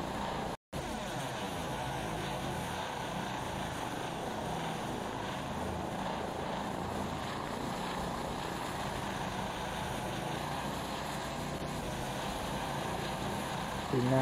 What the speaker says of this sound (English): This is how the helicopter may have landed in the hospital.